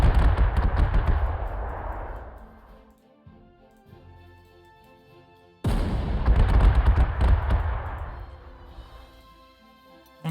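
Video game wartime units open fire on a Bf 109 fighter plane: two dense bursts of rapid gunfire with heavy booms, separated by a quieter ringing pause.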